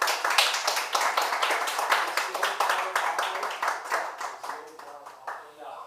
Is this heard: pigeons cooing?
no